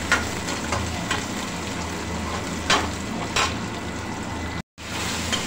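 Cumin, onion and masala sizzle steadily in hot oil in a kadai, a close, continuous frying hiss with occasional stirring scrapes and a brief dropout near the end.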